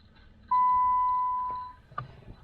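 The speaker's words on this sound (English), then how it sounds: "The alarm just went off" A single steady electronic beep from a 2012 Dodge Avenger in limp mode, about a second long, fades slightly, followed by a short chirp; low background rumble throughout.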